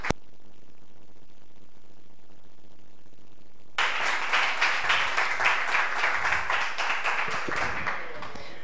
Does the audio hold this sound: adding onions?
no